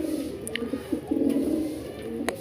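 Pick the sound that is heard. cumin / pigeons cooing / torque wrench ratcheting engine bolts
pigeons cooing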